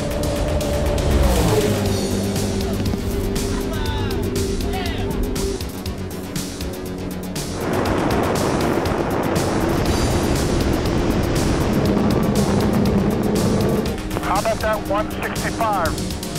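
A racing speedboat throttles up across open water in a high-speed boat race, its engine roar building alongside rushing spray and surf, with someone talking over the noise throughout.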